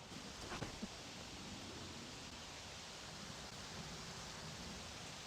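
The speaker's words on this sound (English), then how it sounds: "It's literally raining again." Steady rain falling outdoors on a disc golf course during a downpour, a constant broadband hiss that fills the whole clip with no voices.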